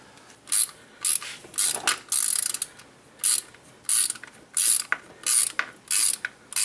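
Socket wrench ratcheting on the engine of a 2008 BMW 535xi during oil cooler and front seal removal, a steady series of about ten close, crisp clicking bursts with short gaps between them.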